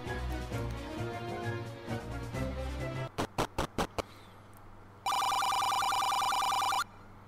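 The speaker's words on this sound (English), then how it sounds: "That's my phone ringing in the background." A telephone rings in the background during a Zelda Classic play session, with a quick burst of several separate rings followed by a long, steady electronic trill that carries on for nearly two seconds before stopping.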